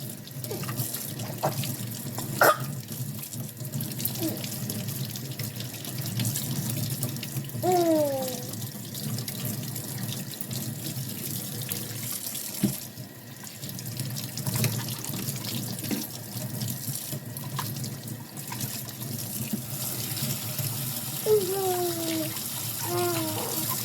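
Hot tap water runs steadily into a sink while espresso machine parts are rinsed at home, a continuous splashing wash punctuated by occasional light clinks and knocks of the parts.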